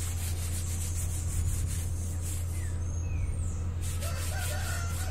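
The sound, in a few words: gloved hand rubbing to smooth a cement vase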